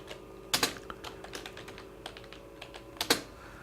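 Typing on a computer keyboard, with scattered, fairly quiet keystrokes and a few sharper, louder presses, in an irregular rhythm with pauses between them.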